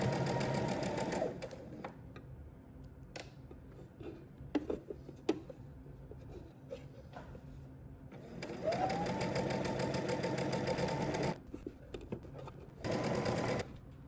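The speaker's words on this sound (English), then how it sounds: "Then we're going to stitch close to the edge." Sewing machine stitching close to the edge of a narrow hem on a Simplicity S3128 dress, running in several steady motor bursts with short pauses and handling noises between them, close and alone.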